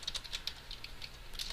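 Quiet, rapid keystrokes patter on a computer keyboard as Java code is typed, a steady stream of light clicks with no voices over them.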